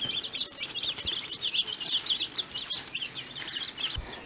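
Newly hatched chicks cheep close by in a continuous run of high, thin peeps with a faint background hiss, ending abruptly.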